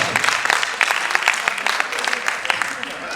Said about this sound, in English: Big applause, like we can clap for her.